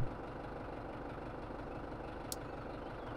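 A tractor engine in Farming Simulator 17 runs at a steady drone while driving in a straight line, constant and fairly quiet with no talking.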